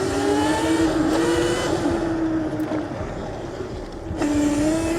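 Razor MX650 48V electric dirt bike being ridden, a continuous loud whining motor with a rising and falling tonal pitch, mixed with wind and rumble throughout.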